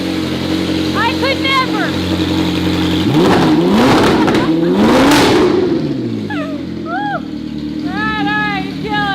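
A Ferrari fitted with a one-off F1-style exhaust revs hard in two loud, rising-and-falling bursts, with engine rumble underneath and excited talk and chatter around it.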